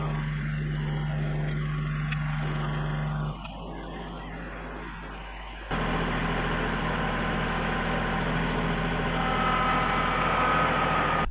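A diesel farm tractor idles loudly and close by in a steady drone. The level drops for a few seconds mid-clip, then returns stronger and holds to the end.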